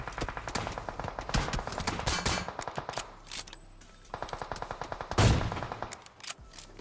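Rapid automatic gunfire from the PUBG Mobile battle royale game, dense bursts of shots rattling in quick succession, then a pause and a louder, closer blast followed by more scattered shots.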